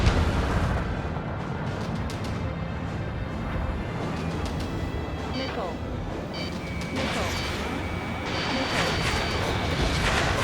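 Missile strike explosions in the Ace Combat 7 air combat game: a dense, continuous roar of blasts and crashing impacts with sharp bursts throughout, loud and sustained, under radio chatter.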